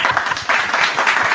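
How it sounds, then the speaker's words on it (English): Audience clapping at a live music show, a short burst of steady, close applause from a small crowd with faint voices underneath. "We'll clap for myself."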